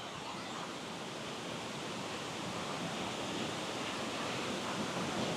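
Rushing water from waterfalls in the Jura, a steady broadband roar that holds constant throughout, dense and fairly close with no voices or other distinct sounds over it.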